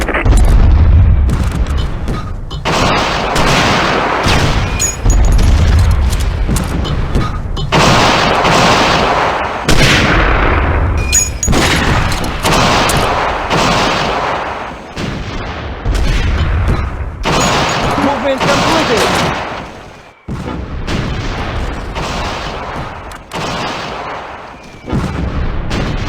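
Gunfire and artillery from the Close Combat video game crack and boom in dense, repeated bursts, with loud blasts and rattling shots following one another at close range almost without pause.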